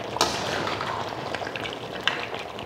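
Country chicken frying in a little oil with curry leaves, a steady close crackling sizzle with a couple of sharper pops and no voices.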